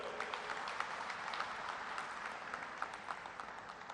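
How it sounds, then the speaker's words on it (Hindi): Audience at a film festival opening ceremony in India claps continuously, a dense, distant-sounding wash of applause with scattered sharper claps, fairly faint and without speech. "उनके लिए जोरदार तालियां बजाओ।"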